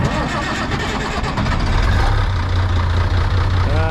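An International Harvester tractor engine turns over and catches, settling into a loud, steady, close-up rumble that thickens partway through.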